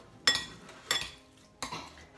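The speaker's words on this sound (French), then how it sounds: "je vais tout simplement mélanger tout le reste des ingrédients" A utensil mixes salmon and scallop tartare ingredients in a bowl, giving three separate clinking knocks against the dish at close range, with quiet pauses between them and no voices.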